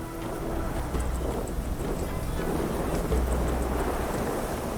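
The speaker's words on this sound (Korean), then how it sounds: "눈 폭풍 못지않은 모래 폭풍이다." Sandstorm wind roars across the red sand dunes of the Namib desert, a steady, loud, broadband rush with gusty swells and no voices.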